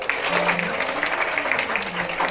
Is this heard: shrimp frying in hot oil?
no